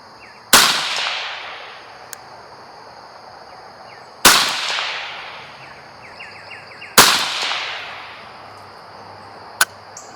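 Three loud, sharp gunshots from a Bear Creek BC-202 .22WMR rifle, spaced a few seconds apart, each with a short decaying echo, plus a couple of faint clicks between them.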